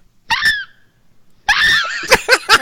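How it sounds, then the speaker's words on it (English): A loud, high-pitched diva-style scream from a person, with a short burst, a pause, then a longer sustained shriek breaking into a few choppy vocal bursts. "I'm about to do my diva scream"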